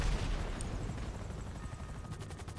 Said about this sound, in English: Pumping lead into these guys.